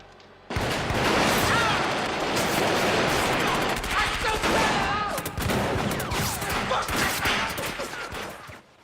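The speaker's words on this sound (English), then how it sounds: "It is only when the onslaught of gunfire stops, and Tony stands above the carnage" Sustained film gunfire from Scarface's final shootout: dense, continuous machine-gun fusillade bursting in loudly after a brief lull and roaring almost without pause for eight seconds, with faint shouting buried beneath.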